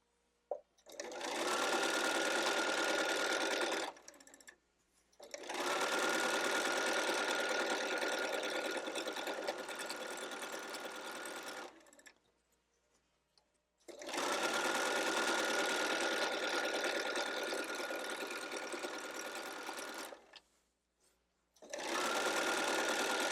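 A sewing machine stitches a burrito-style pillowcase seam, running in four long, even bursts separated by short silent pauses where the needle stops and the fabric is turned. The sound is close and steady.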